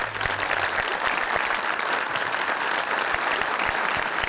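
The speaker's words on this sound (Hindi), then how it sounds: "सच में लाला जी के लिए एक बार भरपूर तालियां।" A studio audience at a Pakistani talk show applauds with steady, dense clapping that carries on evenly for a few seconds without any voices.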